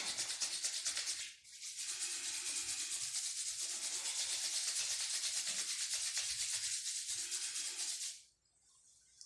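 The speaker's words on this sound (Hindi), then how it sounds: "दोनों हाथ को रब करेंगे और हीट जनरेट करेंगे" Two palms rubbed briskly together to build warmth, a close, steady, dry swishing friction that runs continuously for several seconds between short breaks.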